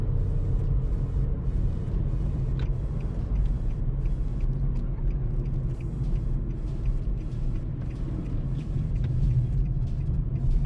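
A 2022 Nissan Versa S with a five-speed manual gearbox drives hard along a road during a speed test, a steady low engine and road rumble inside the cabin with no pauses.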